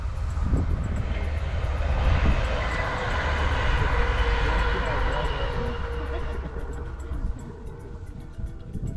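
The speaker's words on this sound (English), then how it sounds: "So you have a train passing through here." A train passes through Friesian dairy farm country in the Netherlands, a steady loud rumble with broad rushing noise sustained across the whole stretch, easing slightly at the end, with people talking over it.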